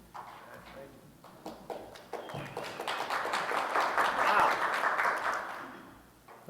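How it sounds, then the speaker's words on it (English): Conference audience applause at a pre-conference workshop, building from scattered claps into a full round that swells and then fades, with voices at the start and end. "Not used to applause."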